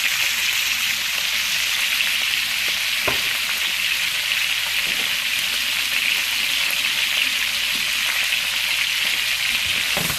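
Steady, loud sizzling of jumbo shrimp frying in a hot pan, a constant crackling hiss with occasional pops and no voices.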